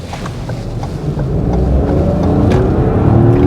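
Suzuki Swift AllGrip AWD engine rising steadily toward its 6,000 RPM rev limiter, a loud, gruff, building drone with wind noise in the background and no talking.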